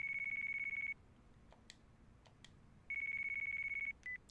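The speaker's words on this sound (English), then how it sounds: "that's my phone." A phone in Yakuza 3 Remastered rings with a steady electronic tone, one long ring and then another after a pause, with a short beep at the end, clear and alone against quiet background.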